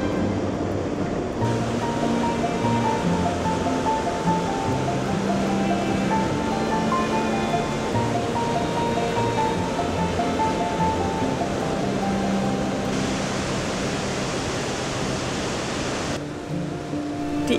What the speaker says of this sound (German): Die Iguazu-Wasserfälle sind die größten Wasserfälle der Welt.